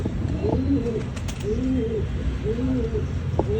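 Pigeons coo in a steady series of low, rounded calls, close and moderately loud over a constant background hum, one call following another in an even rhythm.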